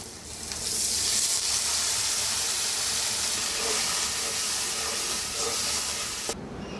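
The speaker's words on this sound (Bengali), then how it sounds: "এবং একটু পানি দিয়ে কষিয়ে দেবো।" A splash of water hits hot frying spices in a pan, setting off a loud, sustained steamy hiss that holds for several seconds before cutting off abruptly.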